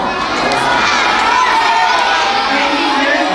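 A big crowd of schoolchildren at a Grade 4 Lent assembly at a school calls out a loud, drawn-out greeting in unison to visiting guests, a sustained chorus of young voices filling the hall.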